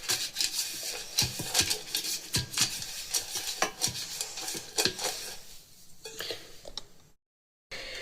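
Cake batter whisked in one steady direction for an orange healthy cake, a busy run of quick scraping clicks and taps of whisk against bowl, close and fairly loud, fading near the end before a brief cut.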